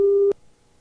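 A single steady telephone line tone from a 1984 local phone system, lasting about a third of a second before cutting off abruptly, clear and alone.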